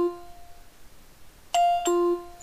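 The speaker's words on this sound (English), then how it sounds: "I can toggle whether or not it makes a sound when it finishes the scan." A FARO Focus laser scanner plays a short electronic chime when a scan finishes: a soft tone, then two quick bright notes in succession, clean and close with no talking.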